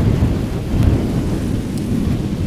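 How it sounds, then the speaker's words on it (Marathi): A thunderstorm with strong gusting wind as rain begins to fall: a steady, close, low rumble of wind and rain runs throughout, with a slight surge near the middle and no voices. "झाला आहे थोडासा पाऊस चालू,"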